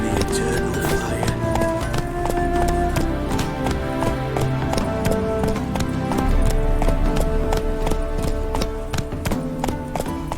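Horse hooves gallop in a video game, a fast steady clip-clop rhythm close and prominent over a layer of game music throughout.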